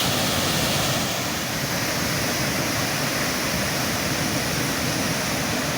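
Canikdere waterfall in Tonya, Trabzon, pouring in a dense, steady roar of rushing water, loud and close with no breaks.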